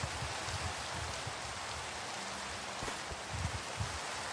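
Steady rain in a video game world, a continuous wash of broadband hiss with faint soft patter low down, even and constant throughout with no talking.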